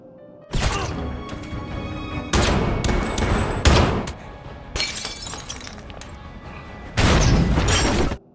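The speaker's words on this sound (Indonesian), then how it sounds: "terjadilah aksi tembakan" Gunfire shootout in a film as an armed man storms a diamond sale: loud bursts of shots and crashing impacts come in several blocks with short gaps between, harsh and close, with no talk.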